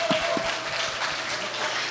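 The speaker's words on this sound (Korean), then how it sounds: "우리 상가상을 받는 분을 위해 뜨거운 박수." Applause for award winners at a high school Sunday worship service, a light, somewhat distant patter of clapping that stays fairly even throughout, with a few sharper individual claps near the start.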